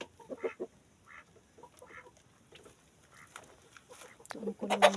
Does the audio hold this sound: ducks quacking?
yes